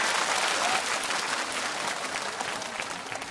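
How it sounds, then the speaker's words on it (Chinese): An audience applauds to welcome performers onto a stage show, dense sustained clapping from a large crowd, loud and continuous before easing slightly toward the end. "我们先掌声欢迎他们。"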